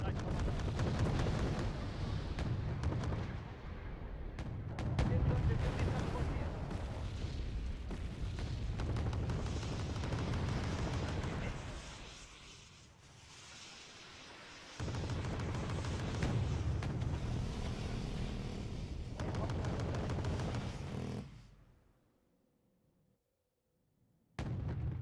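Mortar blasts and gunfire from the real-time strategy game Wargame: Red Dragon rumble as sustained booms and bursts, loud and continuous for about twenty seconds, then drop away to near silence before a final burst.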